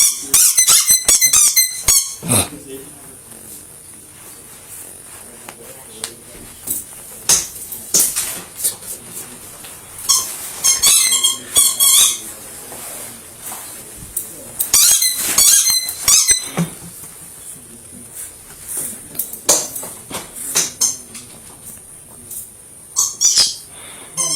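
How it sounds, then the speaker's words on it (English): A dog's squeaker toy squeaks in rapid bursts and scattered chirps, close and loud, with quiet stretches between flurries of squeaks. "It's a squeaker."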